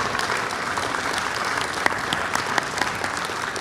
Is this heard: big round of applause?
yes